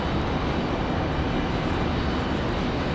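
KC-130 military transport aircraft near Raleigh-Durham International, its engines giving a continuous, fairly quiet broadband drone that stays level from start to finish.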